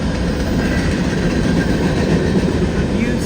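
A freight train in London, Ontario rolls past close by, a loud, continuous rumble and rattle of wheels on the rails that holds steady throughout.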